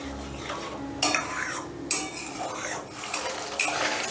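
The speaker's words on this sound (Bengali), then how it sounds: "এবারে গ্যাসের আঁচটা বাড়িয়ে দিয়ে 2-3 মিনিটের মতন কষে নিচ্ছি।" Masala for vegetarian shahi paneer cooks over raised heat in a pan, with repeated spatula scrapes and clinks against the metal over a soft sizzle.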